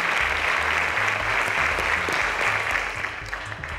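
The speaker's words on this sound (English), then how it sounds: "A round of applause to our contestants for making it this far." Steady audience applause for contestants on a quiz show, an even wash of clapping that holds level and thins slightly toward the end.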